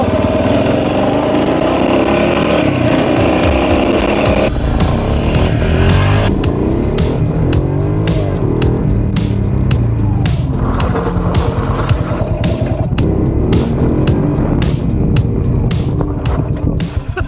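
Yamaha XT 500 single-cylinder motorcycle ridden at speed, its engine loud and continuous close up, the pitch rising and falling through gear changes, with wind buffeting across the recording.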